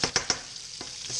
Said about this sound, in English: it's like almost boiling the steak, but in hot butter